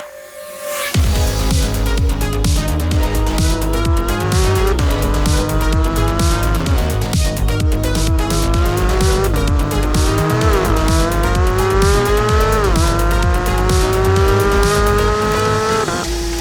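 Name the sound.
Porsche 911 GT3 sports car driving in the wet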